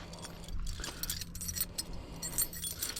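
Car keys jangling and clinking against a vehicle door lock, close and continuous with small metallic rattles and scrapes throughout.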